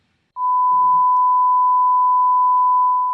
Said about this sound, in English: This frequency at 1000 hertz sounds like this.